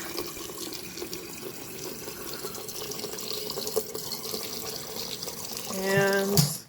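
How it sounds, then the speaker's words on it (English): Water is drizzled by hand onto sprouting roots in a homemade root-viewer container, a soft trickling and splashing that swells and grows louder near the end, with a brief tonal scrape as it finishes. "So I'm going to add more water. Some just drizzling action."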